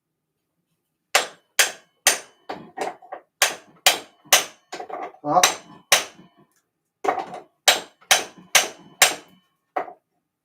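A hammer strikes rocks in a quick series of sharp, close, ringing blows, about twenty in all with short pauses, along with a brief exclamation.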